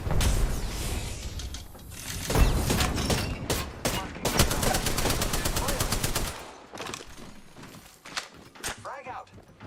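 Rapid automatic gunfire in the Apex Legends video game, with loud bursts of shots and mechanical clatter over several seconds, easing into sparser shots near the end, while a player's voice talks over it.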